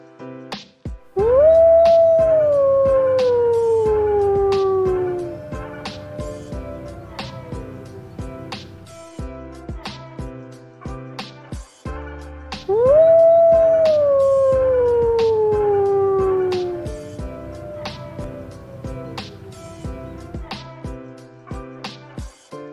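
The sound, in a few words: wolf howling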